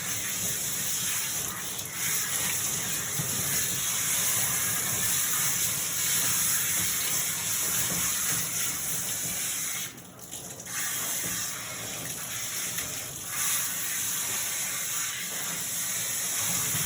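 Water streams continuously from a hose or tap as conditioner is rinsed from a Portuguese Water Dog's coat, a steady close hissing gush with one brief dip partway through.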